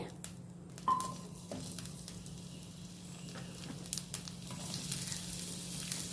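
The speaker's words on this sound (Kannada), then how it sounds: "ತೆಂಗಿನೆಣ್ಣೆ ಹಾಕಿದ ಮೇಲೆ ಇದಕ್ಕೆ ಈಗ ನೀರುಳ್ಳಿ ಹಾಕಿಕೊಳ್ತಿದ್ದೇನೆ" Chopped onions sizzle in hot coconut oil in a pan, a soft, steady crackle and hiss with a few sharper pops and stirring scrapes, quiet and close.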